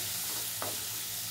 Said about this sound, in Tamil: இப்போ வெங்காயம் பச்சை மிளகாய் எல்லாம் வதங்கிட்டுருக்கு